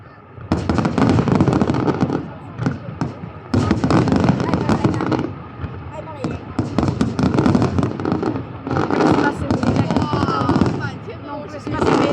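Fireworks in Macau crackle and pop in dense bursts, several loud volleys separated by brief lulls, with distant booms mixed in and voices reacting over them.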